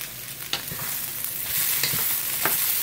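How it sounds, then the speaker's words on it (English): Bok choy stems sizzle steadily in a hot pan with garlic for a vegan stir fry, with a constant loud hiss and a few sharp clacks of stirring. "we're going to be tossing in the stems of bok choy"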